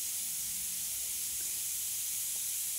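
Two green chilies fry in oil, giving a steady, loud, close hiss and sizzle that holds evenly throughout without talk.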